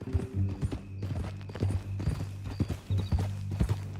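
Horse hooves clip-clop in Red Dead Redemption 2, a steady rhythmic gait of close, distinct hoof strikes with low game ambience underneath and a faint whinny-like tone.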